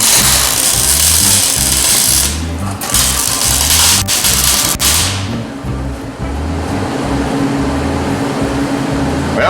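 A power tool is used in an attempt to weld wood, giving a loud, close, continuous grinding whir over a steady, rhythmic low thumping.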